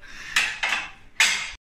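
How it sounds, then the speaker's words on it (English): Rice with the husk still on being pounded, three sharp percussive thumps about a second apart with a bright clattering edge, close and fairly loud. "Pounding rice."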